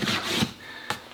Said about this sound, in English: hand planing a surface as broad as this, and you're using a hand plane that's only 2 inches wide